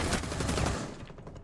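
Gunfire in the tactical shooter Rainbow Six Siege, a loud burst of rapid shots through the first second that cuts off and leaves a fading tail, with no voices.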